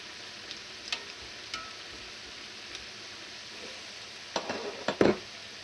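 Churros fry in hot oil with a quiet, steady sizzling hiss, broken by a few faint scrapes and louder clatters near the end as they are turned, close by and with no talking.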